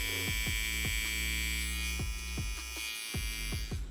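Single-foil electric shaver running at 9,000 RPM gives a steady, close buzzing hum with a low drone, broken by a few clicks and handling knocks and a short dip partway through.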